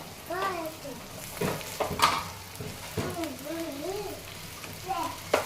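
Cut eggplant with turmeric sizzling in a pan of tempering oil, a steady close frying hiss with stirring scrapes, under a voice talking intermittently throughout.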